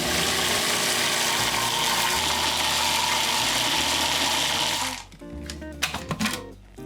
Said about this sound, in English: We'll start with the steamed sweet potato in the food processor, and I'm just going to whir it till it's nice and smooth.